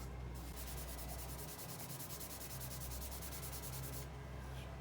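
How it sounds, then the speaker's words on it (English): Steady, close rasping of abrasive paper held against mistletoe wood spinning on a lathe, a continuous dry sanding rub over the motor's low hum, without pause. "I'll just start to sand it down a little bit"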